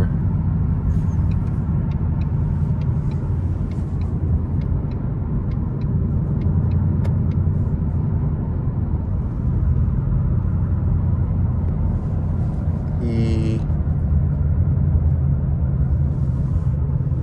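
A Ford Mustang GT cruises steadily on the road, its engine a constant low rumble with road noise filling the cabin for the whole stretch and a brief higher whine near the end, no talking.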